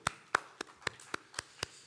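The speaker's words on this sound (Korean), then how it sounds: "우리 하나님 앞에 영광의 박수 올려드리겠습니다." At a church dawn prayer service, hands clap in sharp, evenly spaced beats, seven crisp claps about a quarter second apart. They sound faint and unison against a quiet room.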